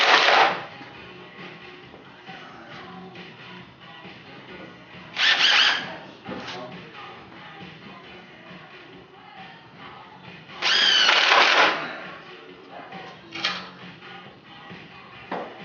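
A power drill drives screws into 2x4 lumber while building a reloading bench, giving three loud whirring bursts about five seconds apart with shorter buzzes between, heard close in a quiet room.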